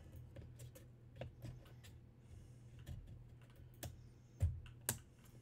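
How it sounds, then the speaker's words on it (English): Computer components click into a Ryzen motherboard during a PC build: a series of faint, sharp clicks and taps, ending in two slightly louder snaps over a low background hum. "Click, click, make sure they're all locked in"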